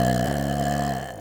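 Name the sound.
burp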